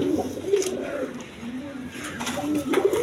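Pigeons coo in soft, repeated rolling phrases at close range, with a few throaty pulses spread across the stretch against a faint background hum.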